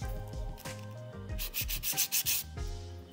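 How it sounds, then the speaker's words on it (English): Hand filing of a sculpted stiletto acrylic nail, working along the left side: rhythmic abrasive rasping strokes, close and fairly loud, several quick passes with short pauses between, no voices. "I'm going to file this left hand side, so I'll file the whole nail."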